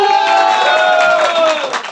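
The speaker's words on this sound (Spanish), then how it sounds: "Aplauso de este lado." Audience at an adult birthday party show applauding and calling out together on cue, a dense, steady burst of clapping and crowd noise that fades toward the end.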